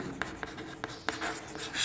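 Chalk or marker taps and scratches on a board while a proof that a number is irrational is worked out, a quiet run of short strokes and ticks at an even pace, nearby and without speech.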